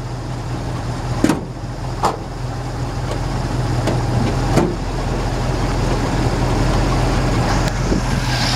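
A 1967 Pontiac Firebird engine with brand new heads idles steadily with a low, even rumble, punctuated by a few sharp clicks and knocks.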